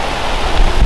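Rain falling outdoors in a mountain valley near a lake, a brief broadband wash with wind buffeting the microphone in low thumps.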